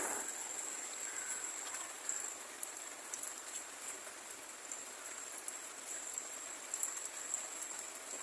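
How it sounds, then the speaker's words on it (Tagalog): Steady hiss of rain falling continuously with scattered droplet ticks, a dense, even wash of sound with no voices. "Kusog kayo ang ulan eh."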